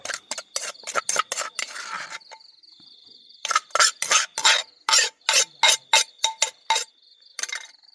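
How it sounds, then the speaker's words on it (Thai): Food is scooped onto a plate, with a rapid series of sharp scraping and clinking strokes of a utensil in quick bursts, a pause, then another run of scoops, crickets chirping faintly in the background. "ตักใส่จานเลย"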